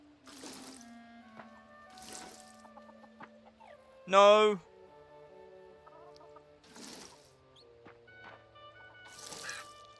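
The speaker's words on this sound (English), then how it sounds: "Go away, chicken." A chicken in the farming game Fae Farm clucks in a few short bursts spaced through the clip, with light game music and a brief shouted voice in the middle.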